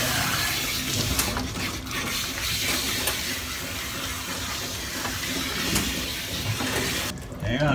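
Steady hissing rush of water from a tap rinsing a bulldog during a bath, loud and close and continuous, with a person talking faintly underneath.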